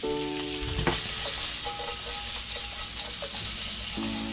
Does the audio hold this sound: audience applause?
no